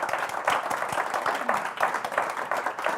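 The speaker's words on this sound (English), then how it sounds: "How about a round of applause for our excellent panelists?" Audience applause for a conference panel at a tax report launch event, a short burst of moderate clapping throughout.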